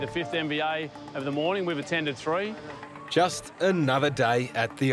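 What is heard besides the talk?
No everyday noises stand out.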